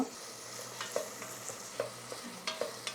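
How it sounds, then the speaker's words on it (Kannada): Tomatoes frying in oil in a pan for Chettinad veg biryani, a soft continuous sizzle punctuated by a few light spoon taps and scrapes as they are stirred, close but quiet, no voices. "ಟೊಮಾಟೊ ಕೂಡ ಪೂರ್ತಿಯಾಗಿ ಸಾಫ್ಟ್ ಆಗಬೇಕು, ಅಲ್ಲವರೆಗೂ ಇದನ್ನು ಫ್ರೈ ಮಾಡ್ಕೋಣ."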